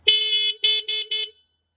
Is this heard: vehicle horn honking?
yes